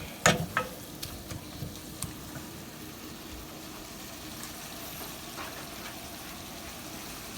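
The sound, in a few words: stir frying spinach in a pan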